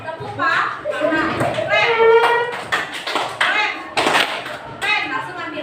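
In a junior high school classroom during a game, students clap their hands in scattered, uneven bursts among children's voices, while a teacher talks throughout.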